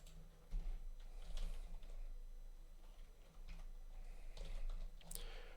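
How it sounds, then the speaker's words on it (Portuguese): Soft, irregular clicks of typing on a computer keyboard set at an awkward sideways angle, quiet and scattered over a low steady background hum. "é ruim digitar esse com o teclado meio de lado, assim"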